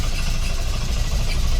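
A 1958 Cadillac engine, low on fuel with a suspect fuel pump, labours steadily at a rough low rumble, running close and loud without settling into an idle.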